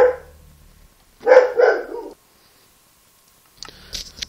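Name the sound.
dog barking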